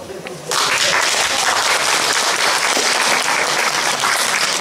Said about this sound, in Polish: Gorące brawa do dziewuszek